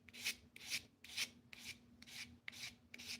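Hand sanding with 400 grit sandpaper: seven steady back-and-forth strokes in an even rhythm, each a soft, close, dry rasp with short pauses between, and no talk.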